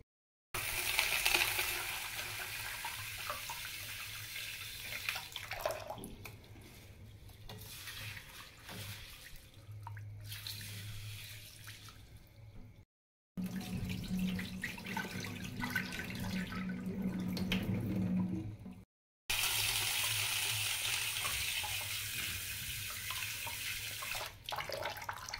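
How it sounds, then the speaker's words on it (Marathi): Mixed dried legumes are washed under running tap water in a home kitchen before soaking. The water streams steadily and splashes nearby, pausing briefly twice as the rinse water changes. "चला मी स्वच्छ 2 पाण्याने धुवून घेते आणि नंतर मग भिजायला ठेवते"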